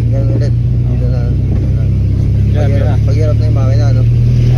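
A car engine drones low and loud, labouring under load throughout a driving lesson, while an instructor and learner talk over the steady hum.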